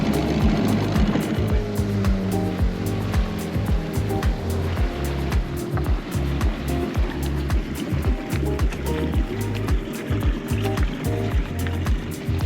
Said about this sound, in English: Beautiful night for a dinghy ride.